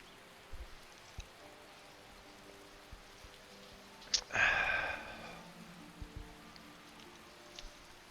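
Rain falls in Skyrim, heard as a soft hiss that swells briefly near the middle and otherwise sits under scattered small ticks and drips, with no voices.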